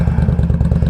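An Indian Scout motorcycle fitted with a Reinhardt exhaust idles close by, its loud, deep engine thumping in a steady, fast rhythm with no voices over it.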